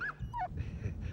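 A dog whimpers and yips in one short, close burst of high, sliding cries over a low rumbling background.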